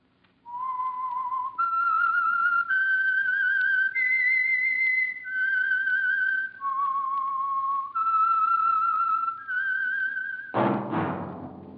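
A clear whistled tune of about eight sustained notes, each held and stepping up and down in pitch, followed by a brief burst of noise at the end, the theme of the 1946 radio program The Whistler.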